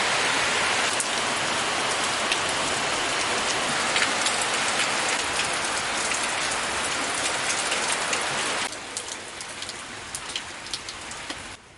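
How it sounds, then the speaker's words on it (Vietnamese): Heavy rain pouring down steadily outdoors in the northwest Vietnamese countryside, a dense, loud, continuous hiss of drops on surfaces with scattered close splatters, easing slightly near the end, with no talking. "Mưa to thật mọi người ạ."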